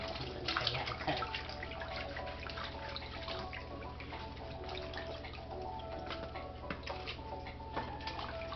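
Greens being washed by hand in a basin of water, with steady splashing, swishing and dripping close by throughout, over a faint constant hum and no talk.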